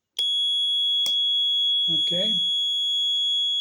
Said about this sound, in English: if I switch the instant switch here, the alarm will trigger immediately